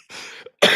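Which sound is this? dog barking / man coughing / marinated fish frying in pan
man coughing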